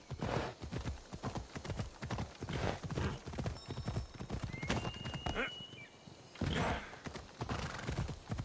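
A horse's hooves clip-clop in a steady rhythmic gait in Assassin's Creed Odyssey, loud and close, with a short whinny partway through and someone talking over parts of it.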